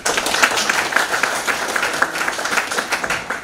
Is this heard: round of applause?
yes